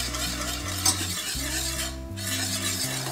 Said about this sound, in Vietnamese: vừa cho vừa khuấy đều